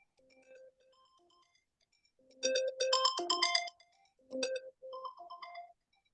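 A phone rings with an unknown robocall, a melodic electronic ringtone playing in short bursts of bright tones with gaps between, fairly faint and with no voices over it.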